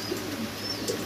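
Female pigeons coo softly on a pigeon farm, a couple of low murmuring coos close by against faint background noise.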